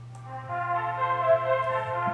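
Sustained piano melody pushed through a compressor, sitting louder and denser over a steady low hum, with bright notes ringing out near the middle of the phrase.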